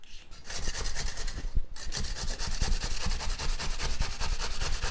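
Half a cucumber being peeled and grated by hand, a steady, close scraping rasp that runs almost without a break, with a short pause near the start.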